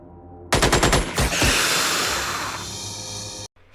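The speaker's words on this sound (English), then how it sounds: "Fourth we have the machine gun." Machine gun fire in Xenonauts: a rapid burst of about eight loud, close shots, then a long ringing, hissing decay that cuts off abruptly.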